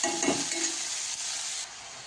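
Steady sizzling and stirring of chopped banana flower in a hot pan, a continuous close frying hiss with faint scraping, no voices.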